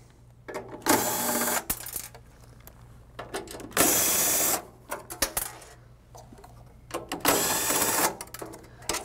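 8-32 nuts being removed from the blower motor mount of an Artisan 2.5/3-e loft blower, heard as repeated bursts of metallic ratcheting and clicking from a nearby tool, separated by quieter handling noises.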